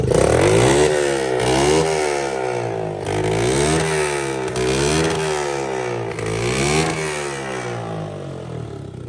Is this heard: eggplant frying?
no